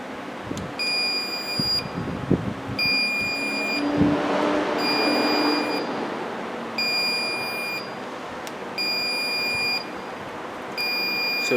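Short electronic beeps from an ACT 760A refrigerant leak detector's self-check repeat at steady intervals, about every two seconds, bright and close, over a low background hum and some handling noise, while checking a 2011 Volkswagen CC's A/C.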